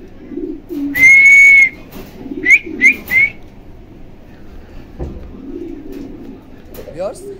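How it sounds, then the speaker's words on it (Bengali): Pigeons coo in short bursts, a longer call followed by a few quick ones, fairly close, with a faint murmur of background noise between them. "আরও এক জোড়া সবজি রেসার কবুতর দেখাইতেছি"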